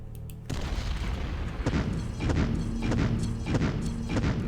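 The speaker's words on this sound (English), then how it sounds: "The mortars were on point." Mortar fire in the World War II strategy game Decisive Campaigns: Ardennes Offensive, Battle of Bastogne: a sudden heavy boom followed by a run of sharp blasts and rumbling impacts, loud and dense, with no voices.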